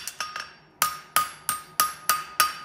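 A farrier hammers a horseshoe clip against the edge of an anvil, about nine sharp metallic strikes, the first three quick and close together, the rest spaced evenly and ringing briefly.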